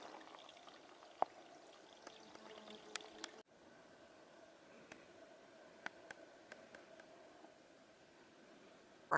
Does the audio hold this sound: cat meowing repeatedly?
no